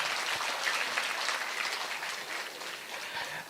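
An audience at a pre-university college inauguration ceremony claps in a dense, sustained wash of applause that sounds somewhat distant and fades slightly toward the end.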